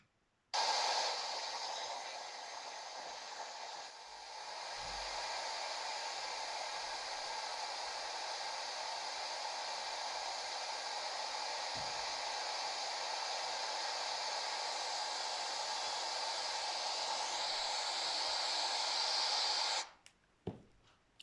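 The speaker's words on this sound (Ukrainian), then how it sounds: "Дітки, це шум вітру." Steady, hissing rush of wind blowing continuously for about twenty seconds, broad and even with little variation, then cutting off abruptly.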